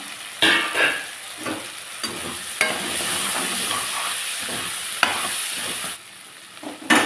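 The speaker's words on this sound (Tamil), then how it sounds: "நல்லா வதக்கிடுவோம். இது நல்லா வதங்கட்டும்." Onions and spices sauté with turmeric powder in a pan for sundakkai puli kulambu, a steady close sizzle broken by repeated scraping stirs of a spoon.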